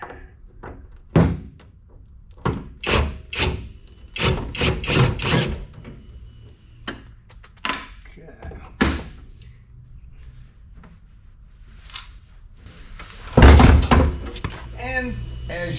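Hollow thunks and knocks ring out as a door is removed from a 1971 Pontiac Firebird, a burst of close, irregular impacts, then quieter handling and a final loud clunk, with someone speaking in between.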